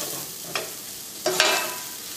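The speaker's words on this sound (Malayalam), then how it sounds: "ജിഞ്ചർ ഗാർലിക് പേസ്റ്റും എണ്ണയിൽ കിടന്ന് നന്നായിട്ട് മുരിഞ്ഞിട്ടുണ്ട്" Ginger garlic paste sizzles in hot oil for a chicken masala, a steady soft frying hiss with a couple of scraping stirs from a spoon in the pan.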